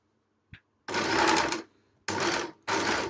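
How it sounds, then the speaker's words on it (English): Overlocker sewing machine stitching along a fabric edge, a brief tap then three close whirring bursts of stitching separated by short pauses. "I just like to do the quick option, which is to just do the straight overlocking right from the get-go."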